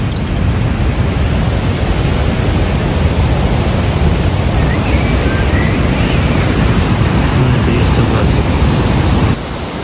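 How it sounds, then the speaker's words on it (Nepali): Stepped waterfall roaring steadily, a dense loud wash of falling water with constant rush and no break until it drops away at the very end. "यहाँ चाहिँ स्टेपको झरना छ"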